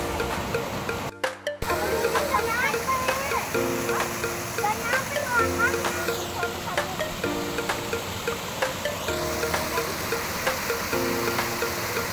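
Water splashes and rushes in a cold waterfall pool at Curug Ciherang, a steady wash of water under people talking, with repeated mechanical beeping tones in the background.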